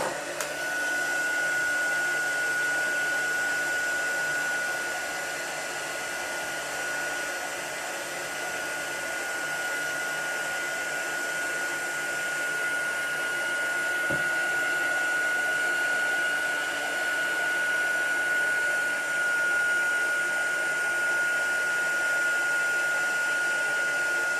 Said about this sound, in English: So we'll do the heat embossing twice.